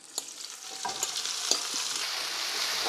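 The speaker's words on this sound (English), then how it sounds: "so just add all this to some hot oil." Pork and vegetables hit hot oil in a wok for pork chow mein, a loud steady sizzle and crackle with stirring clicks and scrapes, close up, no talking.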